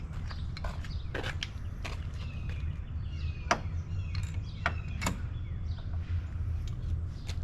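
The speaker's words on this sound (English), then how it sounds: "And then we just tighten those bolts back down." Wrench work on the bolts of a KC Flex Era 4 light mount on a Jeep Gladiator gives scattered short metallic clicks and creaks over a steady low hum, fairly quiet and close.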